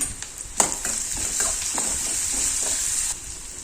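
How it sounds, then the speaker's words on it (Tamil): Mustard seeds and sliced onion fry in hot oil for bitter gourd stir-fry, a bright continuous sizzle with scattered crackles and stirring scrapes, close by, that quietens briefly near the end. "எண்ணெய் சூடானதும் கடுகு, வெங்காயம் கட் பண்ணி வெங்காயம் போட்டிருக்கேன்"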